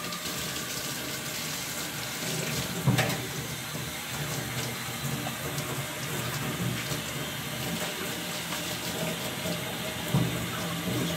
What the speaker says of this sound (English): Just cleaning the sink a bit.